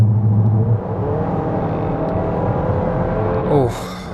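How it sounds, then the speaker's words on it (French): A car engine accelerates during a highway test drive of a GMC Acadia SUV, a steady loud drone with rising harmonics and a short surge of revving near the end. "Le bruit du moteur, celui-là"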